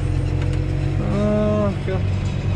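Tractor engine droning steadily during corn harvest on a farm, with a rising mechanical whine as the driver downshifts; someone talks over the steady rumble.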